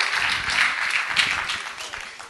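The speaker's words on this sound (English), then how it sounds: "Please, a big round of applause to our comrade, hard-working comrade, this one." Applause from an audience at a political rally fills the clip, a dense steady wash of clapping that tapers slightly toward the end.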